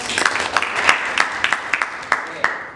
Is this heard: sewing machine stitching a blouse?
no